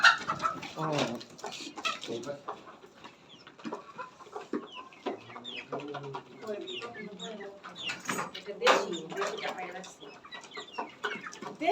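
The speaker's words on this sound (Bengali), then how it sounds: "দেশি মুরগিটা কুচাই গেছে," Native desi chickens cluck repeatedly up close in a poultry setting, with irregular bursts of clucking and squawks throughout, mixed with occasional human voices nearby.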